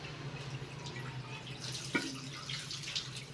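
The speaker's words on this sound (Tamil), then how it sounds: "கொஞ்சம் தண்ணி ஊற்றிக்கணும்." Water poured from a container in a home setting, a soft continuous trickle and splash with a brief sharper splash midway, moderately faint with no talk over it.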